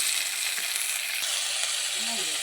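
Spices sizzle in hot oil with fried onions and green chillies in a pan for a spicy fish and brinjal curry, a steady close hiss with faint stirring scrapes.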